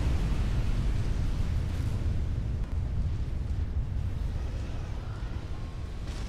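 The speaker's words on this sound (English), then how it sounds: "My god, artillery's hitting you" Deep rumbling barrage of artillery explosions in the strategy game Supreme Commander, a loud, continuous low roar of overlapping blasts throughout with no voices.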